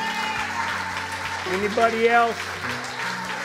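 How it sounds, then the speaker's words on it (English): Church congregation clapping for people coming forward during a Sunday service, a steady patter of applause running under a preacher's amplified voice and a sustained musical tone. "Come on, give him a hand clap as he comes forward."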